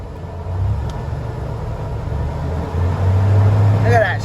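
Engine of a 1988 Ford idling with a low rumble, then revved briefly near the end, loud and close, while someone talks over it.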